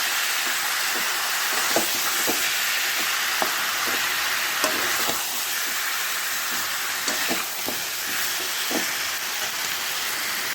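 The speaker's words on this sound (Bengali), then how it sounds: "চিকেনটা সুন্দর করে ভাজা নেব" Chicken seasoned with salt and turmeric fries in oil in a wok, a continuous loud hiss and sizzle broken by scattered sharp pops and spatula taps.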